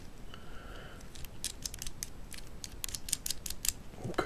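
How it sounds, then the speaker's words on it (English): A thumb screw is threaded into a DSLR gimbal part, giving a quick series of small, sharp clicks and ratcheting ticks close by, with no talking. "to attach it we need to use one of our thumb screws."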